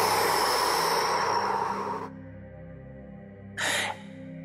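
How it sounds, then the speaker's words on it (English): A long, forceful breath is exhaled during a guided meditation, loud and close over a soft sustained music drone, followed by a second, much shorter breath about a second later. "Just breathe them out. Exhale."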